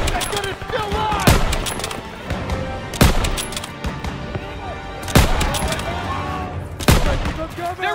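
Rapid gunfire and machine gun bursts in a Call of Duty WWII battle, with several heavy booming shots punctuating the chatter of automatic fire while soldiers shout orders over it.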